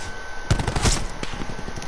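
Rapid automatic gunfire in Call of Duty Black Ops 4 hardcore multiplayer, a loud burst of shots around the middle of the moment, with scattered lighter shots and game noise before and after.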